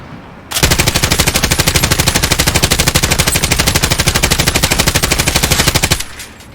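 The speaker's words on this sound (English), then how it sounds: "let's take a look at the recoil pattern for the PKM." A PKM machine gun fires one long sustained burst of rapid, evenly spaced shots in the video game Warzone, loud and close for about five and a half seconds with no talk.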